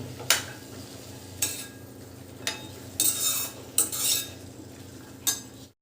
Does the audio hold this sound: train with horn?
no